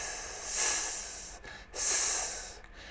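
A voice makes two long, breathy hissing sounds in imitation of a snake, each lasting about a second with a short pause between.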